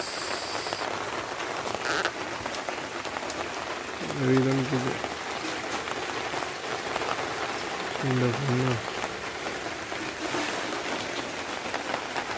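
A heavy downpour keeps up a constant hiss of drops, broken twice by short voice-like tonal sounds that rise briefly above the rain.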